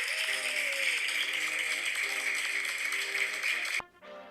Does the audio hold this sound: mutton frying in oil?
no